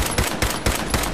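Automatic rifle fire from the video game Fallout 4 during a fight with a Deathclaw, heard as rapid, loud bursts of shots pulsing in a steady rhythm across the whole moment.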